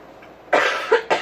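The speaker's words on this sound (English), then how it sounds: "I'm gonna cough again." Two sharp, close coughs from an adult, a loud burst followed by a shorter second one, with no talking.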